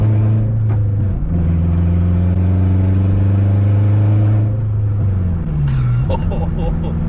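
A turbocharged 8th-generation Honda Civic engine revs loudly and climbs through acceleration, holding a strong drone before easing off, then rising again with some clatter at the end.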